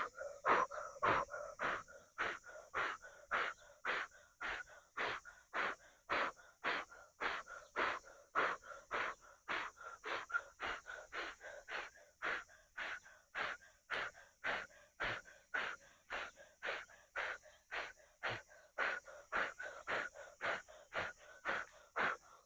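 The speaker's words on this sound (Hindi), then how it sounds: "ऐसे आपने कंटिन्यू फूंक लगाते जाना है।" Forceful, rhythmic exhalations from kapalbhati pranayama breathing practice, about two sharp puffs per second repeating steadily and close for the whole stretch, with no talking over them.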